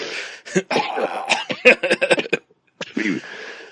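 A rapid string of harsh coughs up close, then a short silence and a final cough burst.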